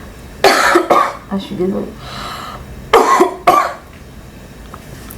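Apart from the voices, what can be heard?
woman coughing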